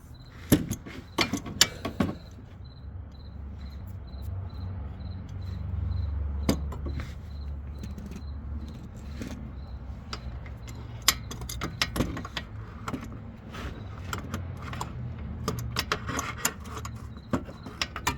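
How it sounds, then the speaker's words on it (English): An adjustable wrench works on a bolt on an Audi, giving scattered sharp metallic clicks and clanks in irregular bursts over a quiet background hum, fairly close and moderately loud. "I'm back with an adjustable wrench"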